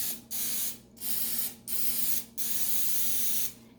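Cooking spray greasing a madeleine pan: four sharp hissing bursts of aerosol, each lasting about half a second to a second, separated by short pauses, close and clear with no talking.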